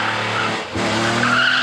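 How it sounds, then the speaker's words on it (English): Tires squeal and skid loudly as a BMW E46 M3 CSL's engine revs hard off the line on the Isle of Man, the wheels spinning briefly before the pitch shifts and the screech continues. "wheel spinning off the line"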